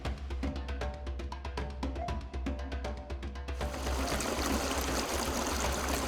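Stream water flowing, a steady rushing babble that fills the scene after a stretch of rhythmic tapping percussion, continuous and fairly close.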